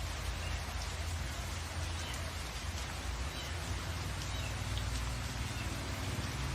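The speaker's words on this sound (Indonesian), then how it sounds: "Selama 3 hari berturut-turut terjadi hujan lebat." Heavy rain falls steadily and evenly over a residential neighborhood, a constant dense hiss of drops on surfaces with no pauses and no voices.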